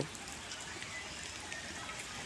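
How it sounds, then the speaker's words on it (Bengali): Rain falls steadily as a soft, even hiss with scattered faint drop taps, heard outdoors at low level with no clear voices. "বৃষ্টি পড়তেছে"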